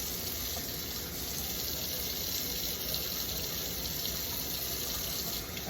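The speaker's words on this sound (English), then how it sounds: "now I'm just going to give it a good rinse" A cast iron skillet is rinsed under a running kitchen tap, a steady, close rush of water that holds evenly throughout with no one talking.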